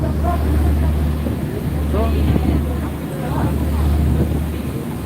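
A passenger ferry's engine drones low and steady while sailing to Gapado island off Jeju, with wind buffeting the microphone and faint voices in the background.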